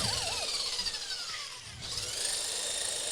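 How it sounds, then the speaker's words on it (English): A homemade jigsaw runs at high speed, giving a loud, steady mechanical whine with a brief dip in the middle before it picks up again. "This is actually a jigsaw."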